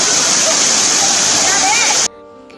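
Pepper Waterfall water tumbling over rocks, a loud dense roaring rush that fills the space, then cuts off abruptly near the end.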